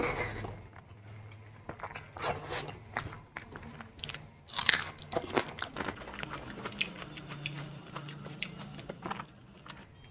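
Someone chews and bites into kadhi chawal, the Pahadi dish of kadhi with rice, served with spicy chilli and eaten in big bites at a mukbang. Close, wet crunches and smacking come in an irregular rhythm with no talk.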